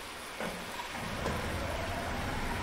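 Heavy rain falls in a farming simulator game set in Thuringia, a steady broadband hiss of downpour that thickens after a brief opening, with a faint rumble-like swell partway through and no voices.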